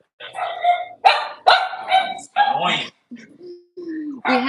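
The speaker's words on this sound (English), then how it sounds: "we want to have the dogs inside, but that means they're barking at the airplanes" Six-week-old Cavalier puppies barking indoors, a run of sharp yappy barks in quick bursts with brief gaps, followed by higher whimpering yips, close and fairly loud.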